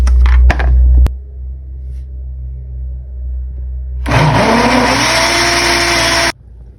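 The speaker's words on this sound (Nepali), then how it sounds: "अब यसलाई मैले चाहिँ ड्राई गर्छ अझ मिक्सर चलाउँ।" A kitchen mixer blender whirs loudly while making juice, starting up with a rising pitch, running steadily for about two seconds, then cutting off abruptly after some quieter handling noises.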